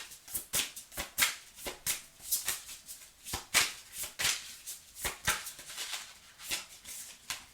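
A tarot deck is handled close up with quick papery slides, flicks and soft snaps of cards being shuffled and moved, in a steady irregular patter with no speech.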